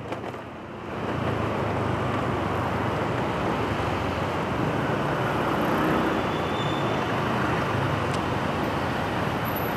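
Road traffic idles and rumbles at a stop light under an elevated skyway in Metro Manila, a dense, steady wash of engine noise that swells in after a quieter first second.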